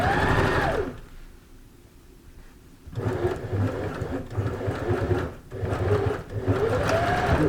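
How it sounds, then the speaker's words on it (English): A sewing machine stitches over a box pleat on a dress bodice, running in steady whirring passes with a short pause before it starts up again, close and clear with no talking. "Now I'm sewing over the box pleat."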